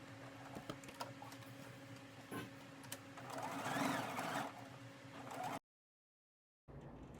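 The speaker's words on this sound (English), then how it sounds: "And then you're just going to edge stitch it all the way around" A sewing machine runs in quick bursts while edge stitching around a dress yoke piece, its motor whirring loudly at close range before stopping for about a second and then starting again.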